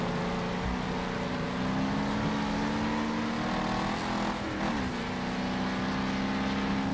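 A damaged racing car engine in Wreckfest drones steadily at constant pitch, loud and continuous, with a brief dip in tone midway and no talking.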